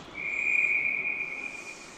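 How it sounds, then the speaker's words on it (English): A referee's whistle at a 14U girls' ice hockey game gives one sharp, steady shrill blast of nearly two seconds, loud and close, with the rink quiet around it. "There's a whistle there because it bounced off of one of the players."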